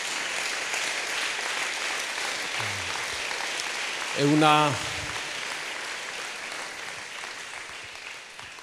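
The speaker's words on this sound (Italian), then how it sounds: "vogliamo dare un abbraccio e un applauso a tutti quelli che sono connessi" A church congregation applauds with a steady, even patter of clapping that runs through the whole stretch. A voice speaks briefly over it, rising above the clapping for a moment near the middle.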